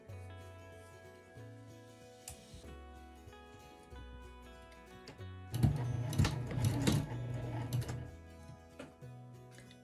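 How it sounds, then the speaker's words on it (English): Sewing machine back stitching a fabric saucer, its needle running in short bursts of steady mechanical whirring with pauses and a faster, louder stretch near the end, close and alone with no talk. "I'm going to back stitch there so that it's tied off"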